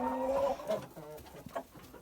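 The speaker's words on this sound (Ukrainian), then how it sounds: "барбазє шикарні кури, великі і несуться вони досить непогано" Barbezieux hens clucking and cackling close by, a few short bursts with a longer opening call, no talking.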